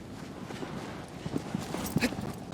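Hooves of a running horse in the video game Shadow of the Colossus, soft quick clip-clop steps over faint background noise, growing slightly louder toward the end.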